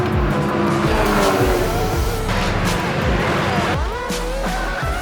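Race cars, including a Ginetta and a Cupra, scream past on a circuit, with loud engine whines rising and falling as they pass and gear changes cutting through the racing noise.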